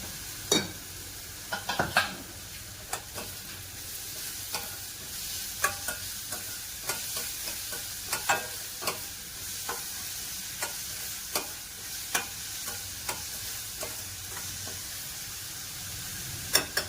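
Ingredients sauté in a home-cooking pan before mango is added, a soft ongoing sizzle broken by frequent sharp scrapes and clacks of a spoon stirring, fairly close and with no talk.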